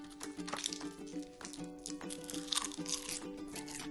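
Someone eats crunchy Bibigo dried seaweed (gim) up close, producing brittle crunching and crinkly, tearing bites in quick irregular bursts, fairly quiet and with no talking.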